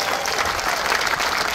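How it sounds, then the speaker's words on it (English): A crowd claps and cheers for an honor guard at a gathering, a dense, steady burst of applause that fills the short moment without pause. "Honor Guard, give them a round of applause."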